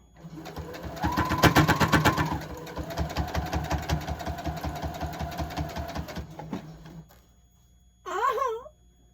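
A sewing machine runs loud and close while a quilt is pinned, its needle hammering in a fast steady rhythm for about six seconds before it slows and stops. A short warbling whine follows after a pause.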